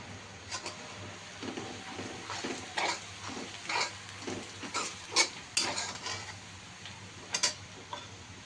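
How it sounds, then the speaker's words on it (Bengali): Onions browning in a pan with cardamom, bay leaf, cloves and cinnamon, a soft sizzle under repeated scraping and stirring taps from a utensil, fairly close and moderately quiet. "এবার পেঁয়াজটাকে আমি বাদামি কালার করে প্রথমে ভেজে নেব।"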